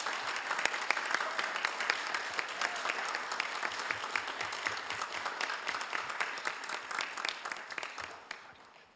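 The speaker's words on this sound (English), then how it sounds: "let's give everyone a big round of applause" Audience applause fills a city council meeting chamber after an Autism Awareness Day proclamation, with steady, dense clapping from many people that holds throughout and tapers slightly at the end.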